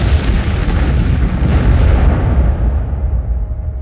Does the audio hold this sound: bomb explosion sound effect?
yes